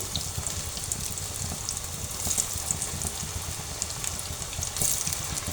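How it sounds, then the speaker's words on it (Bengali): Beef shami kababs made with potato fry in oil, giving a steady, soft, close crackling hiss with a low rumble beneath it and no voices. "এই তো বাকিগুলো এখন ভেজে নেব।"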